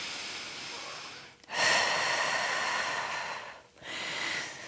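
A person lying on their back during a pelvic floor exercise takes audible breaths: a long, steady airy exhale, a brief pause, then another breath starting, close and clear with no talking.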